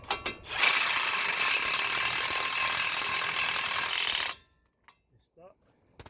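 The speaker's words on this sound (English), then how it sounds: "We're gonna snug it down with the gun." An impact gun snugs down a spindle nut during a front brake job on a 2006 Ford F150, giving one loud, continuous rattling burst of about four seconds that stops abruptly, followed by quiet clicks.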